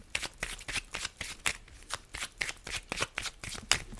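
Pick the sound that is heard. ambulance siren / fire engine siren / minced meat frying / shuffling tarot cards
shuffling tarot cards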